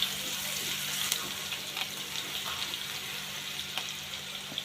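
Mustard, green chili, garlic and cumin paste frying in hot oil in a pan, a close, steady sizzle with a few sharp crackles and pops, no talk over it.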